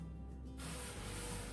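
A short burst of cooking spray onto an air fryer tray hisses on suddenly after a quiet moment and continues steadily to the end.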